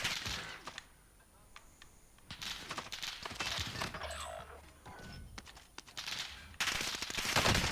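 Gunfire in a shooting video game crackles in scattered, uneven bursts, some sharp and close and others softer, mixed with steady game noise and shuffling movement.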